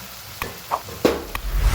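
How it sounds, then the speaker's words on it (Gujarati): Pigeon peas go into a sizzling masala gravy with a few quick stirring knocks and a short rise in frying hiss, all close and fairly loud. "હવે આપણે એમાં તુવેર એડ કરી દઈએ."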